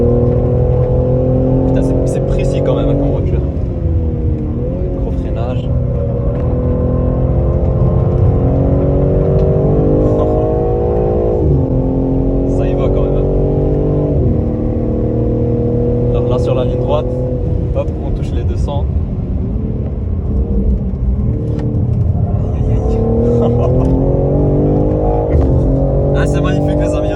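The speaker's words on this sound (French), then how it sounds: "on est pour l'expérience avec une M3 compétition 510 chevaux les amis" BMW M3 Competition with 510 hp driving hard on a race track, a loud engine droning steadily and rising and falling through gear changes for the whole stretch, with someone talking over it.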